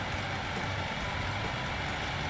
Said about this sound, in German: Der LKW ein bisschen lauter, ein bisschen leiser